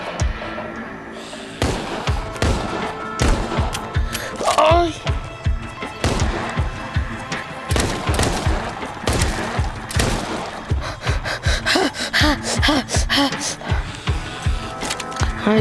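Gunfire in the VR zombie shooter Arizona Sunshine crackles as a long string of sharp, close shots in a rapid, uneven rhythm, with a player's voice talking over the shooting.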